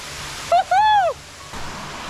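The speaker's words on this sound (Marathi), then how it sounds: "जबरदस्त धबधबा." A large waterfall at Savlya Ghat in Plus Valley roars with a steady rush, while a loud whistling tone rises and falls briefly over it.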